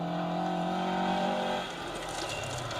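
A 1600 Ford Escort Mark 1 rally car on a special stage, engine droning loudly with steady harmonics that shift as it passes close by and drops away, rally-stage setting.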